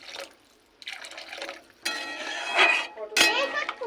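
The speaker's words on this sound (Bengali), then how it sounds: "এবার দিয়ে দেবো জল পরিমাণ মতো।" Water poured into a cooking pot of half-boiled mung dal with a fish head, splashing and trickling in a few uneven bursts with light clinks of metal, close and moderate in level.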